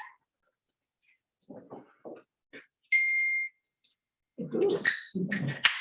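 A timer gives a single short electronic ding as a two-minute warning during a harbor commission meeting, a steady bright tone set between brief bits of nearby speech and room noise.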